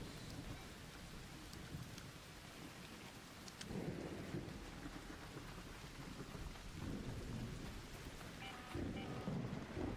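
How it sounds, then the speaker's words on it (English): An electromagnetic thunderstorm rages in the video game ARC Raiders, with steady heavy rain and several deep rolls of thunder swelling up at intervals, loud and close throughout. "an electromagnetic storm is currently raging over topside. Beware the lightning strikes if you're outdoors."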